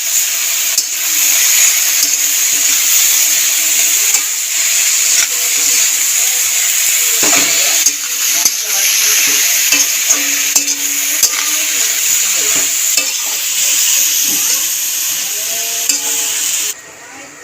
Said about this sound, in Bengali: হলুদ দিয়ে দেবো, মিশিয়ে নেবো নেড়ে চেড়ে